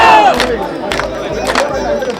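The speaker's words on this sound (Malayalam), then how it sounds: "ക്ഷേത്ര പരിസരത്തും കരകളിലും ആഘോഷവും ആർപ്പുവിളികളും ഉയർന്നു" A crowd cheers and shouts at the Chettikulangara Kumbha Bharani temple festival in Kerala: loud, massed hollering that rises in several distinct bursts over a continuous roar of voices.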